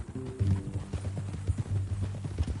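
Horse hooves clip-clop at a walk in Red Dead Redemption 2, a steady close rhythm of hoof falls under a low drone with faint in-game sounds.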